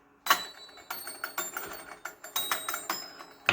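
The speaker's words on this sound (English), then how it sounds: "we have this little gong thingy" A small decorative gong drops and clatters, giving a loud metallic strike with a short bright ring, then a string of lighter knocks and rattles as it settles, close by with no talk.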